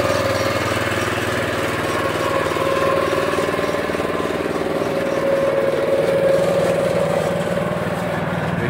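An Almaco LPT G plot thresher engine runs smoothly at a steady idle, giving a continuous close mechanical drone with an even hum that holds for the whole stretch, with no talk over it.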